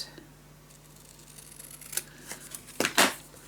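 Scissors cut paper for a scrapbook mini album: a couple of short, crisp snips close by, following quiet handling sounds.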